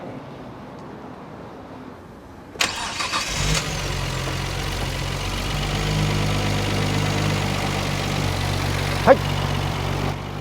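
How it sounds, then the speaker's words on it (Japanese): A Nissan RB26DETT with a Nismo S1 engine and aftermarket muffler cranks and fires up, then settles into a loud, steady burbling idle with a single sharp blip near the end, and a voice speaks briefly beforehand. "エンジンかけます。"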